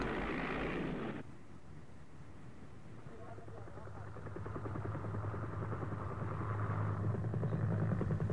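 A Mi-8 helicopter drones steadily, its rotor and engine hum building slightly louder over time with a low throbbing rumble.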